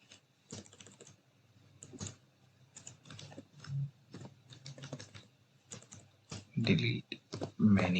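Keys tapped on a computer keyboard in quick irregular bursts, close and moderately loud, with a few heavier strokes near the end.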